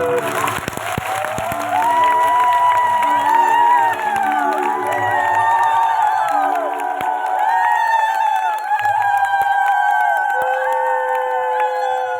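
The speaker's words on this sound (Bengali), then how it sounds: "এত সুন্দর সবাই লীলা করছে তাদের জন্য সুন্দর তালিয়া" Crowd at a religious performance clapping and cheering, loud and sustained, with voices calling out and a melodic vocal line running through the applause.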